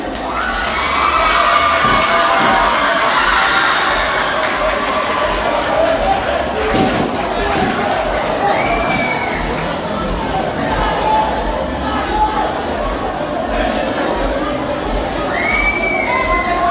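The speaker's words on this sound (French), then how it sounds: "Sous vos applaudissements," An audience at a school quiz final between two schools cheers and shouts loudly without pause, a steady crowd roar with children's voices and whoops.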